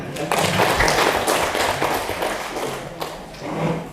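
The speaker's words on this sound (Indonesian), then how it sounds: "Tepuk tangan dong." Applause from an audience at a religious address at a school in Padang Panjang, a loud burst of clapping that gradually thins out, with sharper taps near the end.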